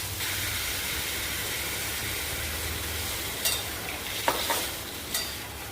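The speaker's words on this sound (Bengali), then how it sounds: "এবার জল দিয়ে দিচ্ছি" Water is poured into a hot pan of chopped chilies and cumin powder while cooking bottle gourd with lentil dumplings, giving a loud, steady sizzling hiss that flares in a few short bursts toward the end.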